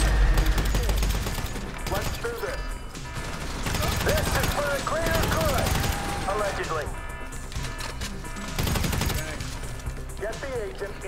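Heavy gunfire in the video game GTA V during a street robbery heist: sustained rapid bursts of automatic weapons fire crackle throughout, loud and dense, with someone speaking over the shooting.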